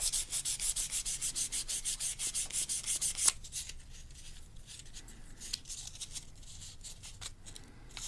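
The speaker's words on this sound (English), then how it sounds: "I want to sand in the same direction." Steady rhythmic hand sanding of a pink opal cabochon, strokes back and forth in one direction, close and fairly quiet, with a lighter, sparser scratching in the latter half and no talk.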